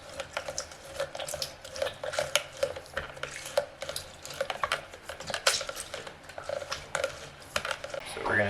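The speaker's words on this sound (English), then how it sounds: "Now we juice the rest of the grapefruits." Grapefruits being juiced by hand in a home kitchen, with a steady run of wet squishing, scraping and clinking close by, quiet and busy.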